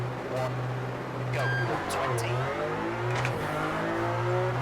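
Racing video game car engine played through a Logitech direct drive wheel, revving and accelerating with rising and falling pitch across several gear changes, loud and steady throughout.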